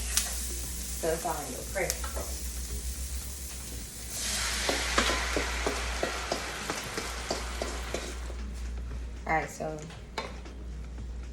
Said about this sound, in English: I'm just gonna saute them real quick on the stove